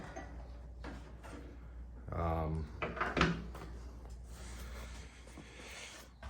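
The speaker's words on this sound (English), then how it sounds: "I will pop the hood real quick and show you." An LS-swapped Chevy S-10 pickup's hood is popped open, a couple of short hollow latch clunks and a metallic thump rising over quiet background noise midway through.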